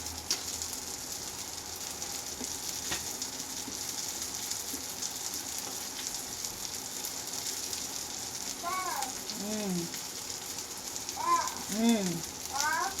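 Fish frying in a pan, a steady soft hiss and crackle of oil running throughout at moderate level, with chirping voices of people in the room near the end.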